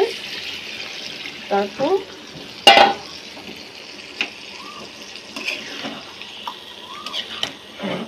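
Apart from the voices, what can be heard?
water poured into pan of chicken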